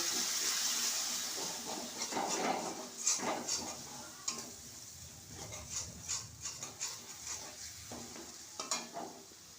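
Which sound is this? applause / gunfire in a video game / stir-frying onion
stir-frying onion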